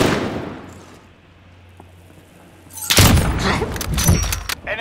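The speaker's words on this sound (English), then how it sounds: "Cruise missile, go for launch." A cruise missile strike in the Modern Warfare video game lands as a loud, broad explosive blast after a quieter lull, followed by rumbling booms and crackling gunfire-like bursts.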